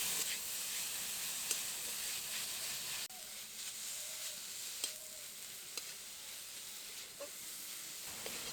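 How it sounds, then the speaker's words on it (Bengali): Grated coconut and date palm jaggery are stirred in a wok for a bhapa pitha filling, giving a soft, continuous sizzle with light scraping stirs at intervals, faint and close. "এবার কড়াইতে নারকেল করে দেব, খেজুরের গুড় দেব।"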